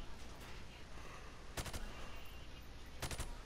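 Rifle shots fired from the hip in Call of Duty: Modern Warfare Remastered come as two short bursts of rapid cracks over a steady background, loud and close.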